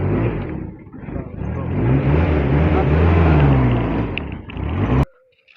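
A car stuck on a bad road after heavy rain while people try to push it free: its engine drones and strains loudly, rising and falling for several seconds, then cuts off abruptly.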